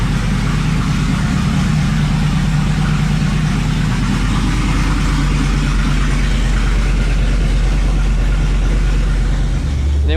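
A Chevrolet Colorado ZR2 pickup idles with its exhaust cutouts open, a loud, deep, steady rumble that holds close and constant throughout, with a slight shift in tone near the end.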